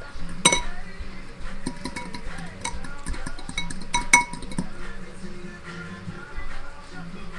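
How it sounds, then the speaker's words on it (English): A fork whisks eggs in a bowl for French toast, producing a run of quick, uneven clinks and taps against the side, fairly close and clear. "just make sure that is completely whisked up"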